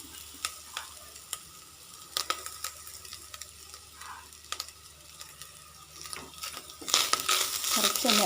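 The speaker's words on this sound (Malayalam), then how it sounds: "കുറച്ചൊന്ന് ഇളക്കി കൊടുക്കാം." Grated coconut being stirred through a hot pan while making ammini kozhukattai, giving soft intermittent scraping and light sizzling that grows busier and louder near the end, with no talking.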